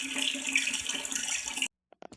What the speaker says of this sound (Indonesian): kucuran di keran air saya yang tanpa melalui filter air. Airnya kenceng banget ya